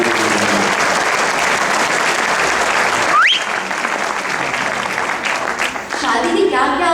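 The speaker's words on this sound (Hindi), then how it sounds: "एक बार तालियां दीजिएगा" An audience at a Hindi poetry gathering (kavi sammelan) applauds with loud, sustained clapping throughout, a voice speaking over it near the end.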